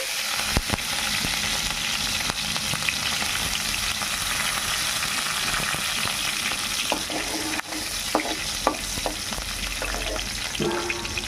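Mustard seeds and then green chilies frying in hot oil give a loud, continuous sizzle with scattered pops and stirring clicks throughout.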